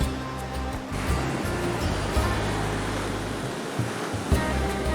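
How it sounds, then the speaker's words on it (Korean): Rough ocean surf at sunset off the coast of India, heard from a small fishing spot as a continuous loud wash of breaking waves with heavy low rumble, steady throughout. "해가 지면서 파도가 거세지는데요."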